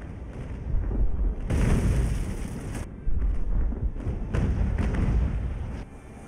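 Naval cannon broadsides in the Age of Sail game Ultimate Admiral, with heavy booming thuds and rumbling bursts rolling one after another, loud and dense across the whole stretch without any voices.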